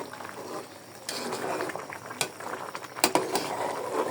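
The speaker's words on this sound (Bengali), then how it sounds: "আর এই হচ্ছে ছোট ছোট ছোট আলু দিয়ে রান্না করছি।" Small potatoes cooking in a pot on a home stove, bubbling and simmering steadily with a few sharp clinks of a utensil against the pot, close and moderately quiet, with no talk.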